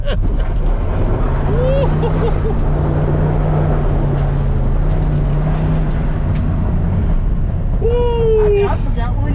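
A 1968 Ford F100 Ranger truck drives in low gear with a steady low engine drone, mixed with wind buffeting the microphone.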